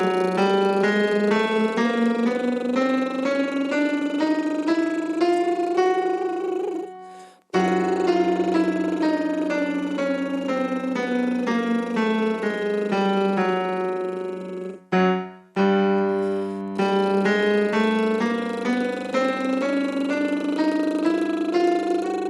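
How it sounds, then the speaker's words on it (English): A singer does a lip roll or tongue roll up a chromatic scale, a buzzy pitched trill climbing step by step in long sustained runs, with brief breaths between three phrases, close and clear. "we will start with the lip roll or the tongue roll, whichever you're more comfortable with, and we will move on a chromatic scale"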